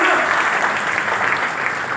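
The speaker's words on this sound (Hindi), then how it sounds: "एक बार ताली बजाओ इनके लिए" Audience applause for housewives at a talk, a dense steady wash of clapping held at even loudness for the whole stretch, fairly close and filling the room.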